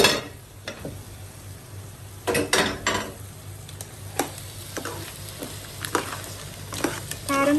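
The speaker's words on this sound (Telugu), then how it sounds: "ఇప్పుడు టమాటా వేసుకోవాలి." Tomato goes into a frying pan for an Andhra-style crab curry: a steady sizzle continues under intermittent scraping and clinks of a spoon stirring against the pan, close and moderately loud.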